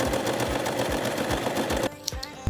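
Close and loud, a sewing machine stitches a shoulder seam on a recycled old jacket in a fast, even run of rhythmic needle thumps, then stops abruptly, leaving a few quiet clicks.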